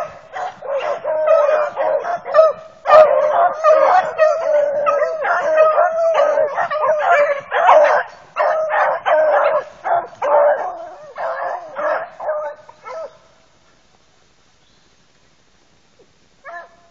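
A hunting dog chasing a rabbit bays and yelps in rapid, continuous bursts for about thirteen seconds, loud and fairly close, before fading to near silence.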